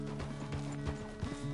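Horse hooves clip-clopping in Red Dead Redemption II, a quick irregular series of close hollow thuds at a walking pace, with no talk over them.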